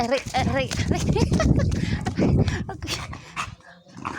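Several dogs bark and yelp close by, mixed with lively overlapping human chatter throughout.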